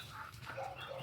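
Dogs penned in a fenced backyard pool area make a short burst of rough barking, somewhat distant and fairly quiet against the outdoor background.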